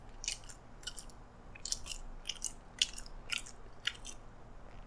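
Boneless chicken wings are chewed close to the mic with soft, wet bites repeating in a steady rhythm of about a dozen crisp chomps over low background hiss.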